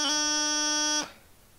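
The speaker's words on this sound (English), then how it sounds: "One is the D strike." One held, buzzy, reedy note on a bagpipe practice chanter with a quick grace-note flick at the start of the D strike embellishment, lasting about a second, then cutting off cleanly into quiet.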